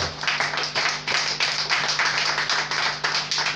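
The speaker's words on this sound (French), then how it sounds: "Acclame pour cette parole" A church congregation applauding together, dense, loud and continuous clapping from many people close by, steady throughout with no pauses.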